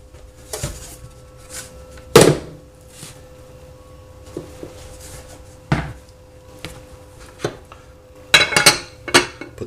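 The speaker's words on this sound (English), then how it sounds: "Put the lid back on." A metal lid set back onto a Dutch oven pot holding no-knead bread dough, a few sharp metallic clinks and knocks scattered among quieter handling noises.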